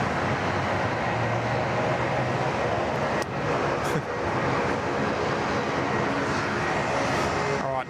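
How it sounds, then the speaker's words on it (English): A Qantas Retro Roo airliner on its takeoff roll down runway 34 left at Sydney Airport: a steady, loud, broadband engine roar that holds throughout, with faint voices underneath. "nice long takeoff roll here"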